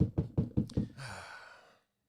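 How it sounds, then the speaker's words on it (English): Four quick, firm knocks on a hotel room door, close and evenly spaced, followed by a soft rustle that fades out. "Knock on the hotel room door."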